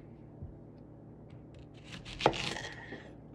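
A whole onion chopped with a knife on a board, a soft, faint rubbing scrape that builds into a few louder close cuts, with no one talking.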